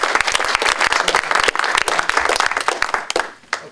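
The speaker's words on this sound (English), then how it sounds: "I think everybody should applaud you for your great effort." Audience applause at a public meeting, dense overlapping clapping from many hands at a steady level, fading out toward the end with a few scattered final claps.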